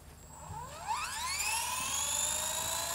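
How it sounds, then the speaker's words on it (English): A collective-pitch RC helicopter spools up, its rotor whine rising steadily in pitch and volume, then holding a high steady tone. "So let's go ahead and spool this up."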